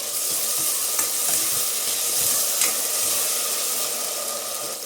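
Drumstick pieces frying in hot oil for biryani, giving a steady broad sizzle throughout with a few soft stirring knocks, close and fairly loud.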